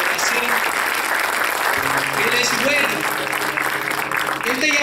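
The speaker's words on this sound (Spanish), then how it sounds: "Pueden darle un aplauso a él" A church congregation gives sustained applause for a man who has just given his life to Jesus, steady clapping throughout with a speaking voice and faint tonal music beneath it.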